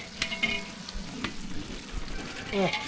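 Fish sizzles and crackles in hot oil with soft stirring clatter, a quiet steady frying hiss with occasional pops.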